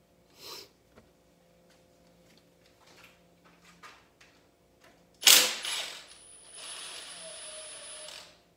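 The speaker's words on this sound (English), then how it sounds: "whoop, dropped a bolt there" A metal bolt drops onto a shop floor during engine teardown on a cammed 5.3, giving one sharp, close clatter midway through an otherwise quiet stretch of faint workshop noise, followed by a steady hiss.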